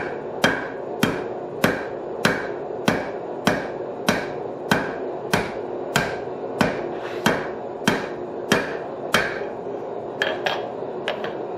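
A hammer strikes hot steel on an anvil horn while forging a hardy hold-down tool, about eighteen sharp ringing blows at a steady, fairly quick rhythm, close and loud with no talking.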